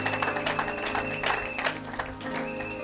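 Applause from a church congregation fills a short stretch with dense, steady clapping, with a droning musical tone underneath.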